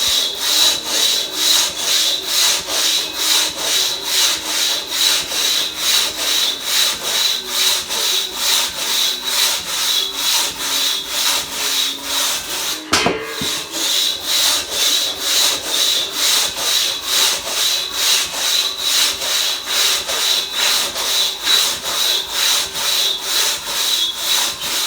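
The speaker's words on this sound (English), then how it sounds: "I'm just sawing naturally right now without trying to force myself closer to the saw." A hand saw fitted with a single saw handle cuts through wood in steady, rhythmic back-and-forth strokes, close and continuous, with one brief knock or pause midway; no talking.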